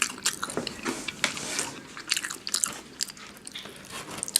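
Sonic chili cheese tater tots are eaten close to the mic, with crisp bites, soft squishy chewing and wet mouth sounds in an uneven rhythm, no talk.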